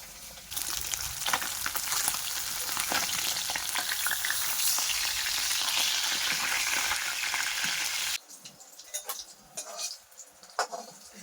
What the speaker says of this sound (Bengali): মাছ ভাজা হয়ে গেছে কড়াইটা খুব গরম হয়ে গেছে